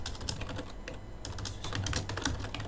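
Rapid clicking keystrokes on a computer keyboard as a command is typed into a network terminal, steady and close, with no voices.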